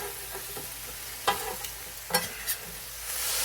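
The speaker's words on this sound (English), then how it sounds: "You can kind of keep pushing it side to side. Let it cook down and reduce." Ground beef bulgogi sizzles steadily on a griddle, with a few sharp scraping strokes of a spatula as the meat is pushed side to side, the frying hiss rising toward the end.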